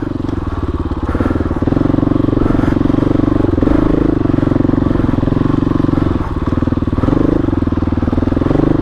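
A KTM 500 EXC-F four-stroke rides off-road with a loud, continuous, lugging engine note, rising and easing slightly with the throttle, close to the rider throughout.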